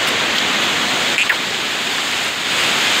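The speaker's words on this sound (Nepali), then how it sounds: "यो पो झर्ना यार छङ छङ बजेको" A waterfall's water splashing and crashing, a loud dense steady roar filling the whole moment, close by and without voices.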